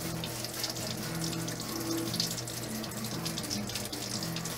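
Tap water runs steadily into a kitchen sink while dishes are scrubbed, a continuous close splashing rush with no speech.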